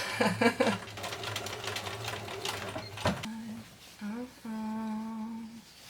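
A sewing machine stitches jeans being cut down into shorts, with quick bursts of rapid mechanical clatter followed by steadier humming runs, close and clear, with a voice briefly heard between bursts.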